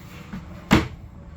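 A soft-close cedar drawer in a 2026 Glacier 17EXP RV glides shut, ending in a single muted thump at close range.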